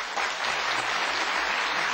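Applause from a studio audience on a Russian TV talk show greets two theatre and film actresses, a dense, steady clapping that stays loud and unbroken for the full two seconds.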